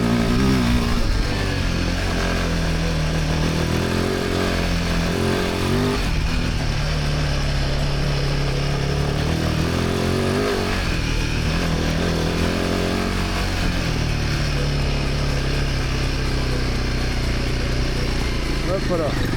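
Royal Enfield Himalayan 450 motorcycle engine running loud and close while riding, a steady rough drone that swells with throttle and eases off, under a person speaking in French.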